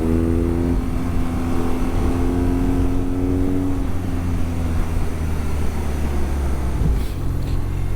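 A 2023 BMW R nineT Pure A2, a 1200 roadster motorcycle, pulls hard on the road, its engine note climbing steadily in pitch then dropping near seven seconds as it shifts, loud and close over steady wind rush.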